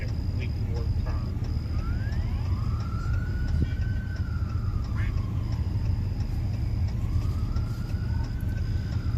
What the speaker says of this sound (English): I'm not sure where these sirens are going right now